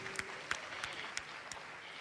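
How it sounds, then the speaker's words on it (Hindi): A crowd at a government credit-camp event for women's self-help groups breaks into brief, faint applause, a soft wash of hands with a few louder rhythmic claps landing at steady intervals, heard from a distance. "अरे हम ताली दोनों बजाओ"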